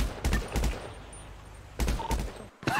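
Bursts of video-game gunfire in a GTA shootout on a mountain after a jewelry store robbery, several rapid volleys spaced across the moment, loud and close, with no talking.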